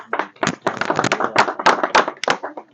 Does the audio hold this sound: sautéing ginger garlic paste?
no